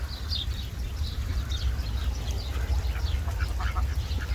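Ducks quacking in scattered bursts at a moderate distance on a flooded farm pond, over a steady low rumble of wind or rain, with no talking.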